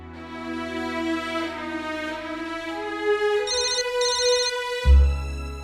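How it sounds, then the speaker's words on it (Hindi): A telephone rings with a bright electronic warble, steady and fairly close, ending with a low thump near the end. "जरा फोन उठा, घंटी बाज रही है"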